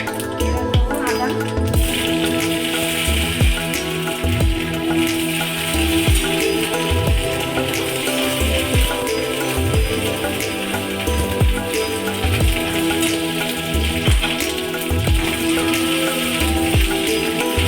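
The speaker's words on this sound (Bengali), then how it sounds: "লাল লাল করে ভেজে নিই।" Ginger frying in hot oil with five-spice in a home kitchen, a steady close sizzle with crackling pops throughout, while a voice talks over it.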